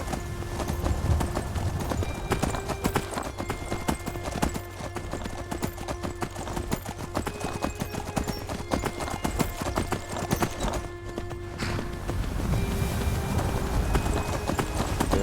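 Horse hooves clip-clop steadily on a road in the video game Skyrim, a rapid, even rhythm of hoofbeats running loud throughout.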